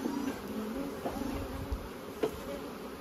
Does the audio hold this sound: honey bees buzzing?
yes